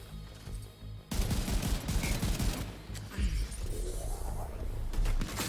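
Gunfire in the video game The Division 2: dense bursts of automatic shots and impacts that begin abruptly after a quieter second and continue in rapid volleys, with a voice speaking briefly.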